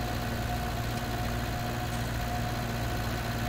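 A tractor engine idles in Farming Simulator 19 with a steady, even mechanical hum and low rumble that holds at a constant level throughout, with no speech.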